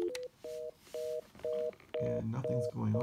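Keypad dialing tones from a Cisco CP-8945 IP phone: seven evenly spaced steady beeps, loud and close, with a low hum and background sound rising under the last few.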